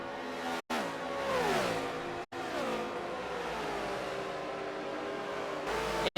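NASCAR stock cars lapping the track at Homestead in a racing game, with engines whining and sweeping in pitch as they pass, loud and continuous apart from a couple of abrupt brief cuts.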